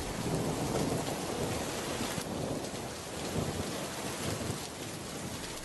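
Steady rain pours in a cartoon forest while thunder rumbles low underneath, with no voices.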